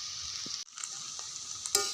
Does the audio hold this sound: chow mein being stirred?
yes